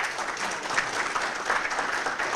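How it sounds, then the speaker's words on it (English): Steady applause from a conference audience welcoming a panel, a dense even patter of many hands clapping at moderate volume, with no talking. "ladies and gentlemen, a big round of applause."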